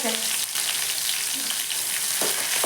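Green chillies and chilli powder sizzle steadily in a hot pan while mango chitranna is cooked, a loud, continuous frying hiss with a few faint stirring scrapes and no talking.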